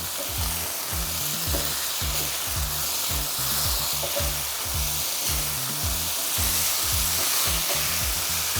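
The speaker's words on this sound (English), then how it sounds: "Give that a good stir through." Turkey and beans in gluten-free oyster sauce sizzle hard in a pan while a utensil stirs in a steady, repeated scraping rhythm, loud and close with no talk.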